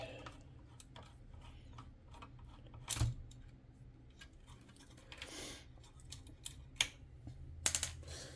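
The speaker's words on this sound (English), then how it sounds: "Take it off the board, and I'll take these 4 screws out." Screws are removed by hand from the power supply of a Commodore 1571 disk drive, with faint ticking and scattered light clicks of a screwdriver and small metal parts, plus a few sharper knocks.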